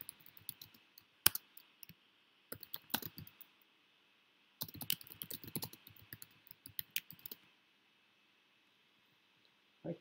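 Typing on a computer keyboard, close and quiet, with scattered clusters of key clicks separated by short pauses, alone over faint background hiss.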